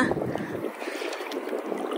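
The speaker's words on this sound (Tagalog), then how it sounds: "Nalakas po ang alon gawa ng mahangin." Wind buffets the microphone while water sloshes and slaps against a small boat in uneven surges.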